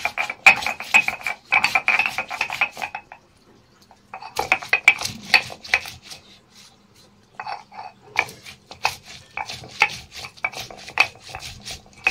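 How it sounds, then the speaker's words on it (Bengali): Dried and ripe chillies with black peppercorns being ground together into a spice paste for an egg masala, rhythmic rough scraping and knocking strokes in bursts separated by short pauses, close and fairly loud, no talking. "কাঁচা লঙ্কাগুলো পেকে গেছে, দিয়ে সব একসাথে বাটবো।"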